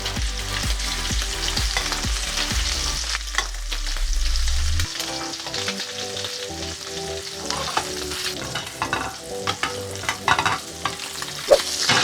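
Prawns frying in butter in a pan, a loud, continuous sizzle broken by repeated stirring scrapes and clatters of the utensil and pan, with a low rumble at the start and no speech.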